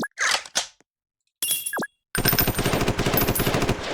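A medium gunner's big gun fires in the turn-based combat video game Noobs in Combat. Two short, sharp bursts are separated by silence, then a loud, rapid, sustained volley of machine gun fire follows.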